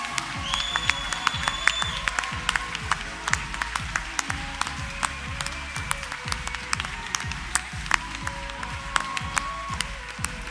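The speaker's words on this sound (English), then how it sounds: "Please give a huge round of applause for your winner" Audience applause for a winner at an LGBT awards ceremony in the UK, continuous clapping with sharp individual claps standing out and a faint background tone, crowd noise murmuring underneath.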